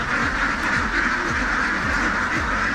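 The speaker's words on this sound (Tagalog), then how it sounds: "Ayun, naniinom yung mga itik ko." Ducks in a newly built poultry pen quack loudly and without pause at close range, a dense chorus of overlapping calls and no talking.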